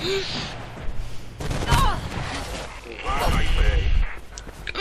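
An enemy fires at the player in the video game Mirror's Edge, with scattered gunshots and bursts of fire cracking amid busy game noise while a person talks over them.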